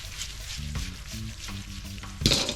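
Ackee and saltfish frying in a pot and being carefully flipped, a steady close sizzle broken by soft scraping stirs and a brief louder clatter near the end.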